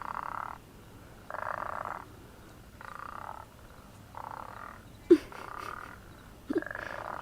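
Repeated frog croaks in outdoor evening ambience, each call a steady buzzing burst lasting under a second, separated by short pauses, with two sharp close knocks near the end.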